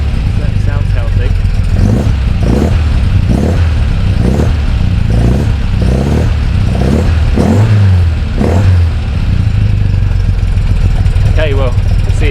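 An MGB GT engine runs close by with a loud, uneven, offbeat rumble, rising in repeated revs over its idle, while a person talks throughout.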